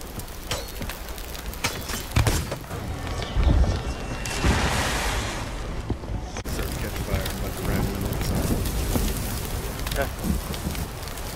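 Steady broadband rain hiss and washing noise in a pirate ship-boarding video game, continuous through the clip with a brief louder swell in the middle, voices talking over it.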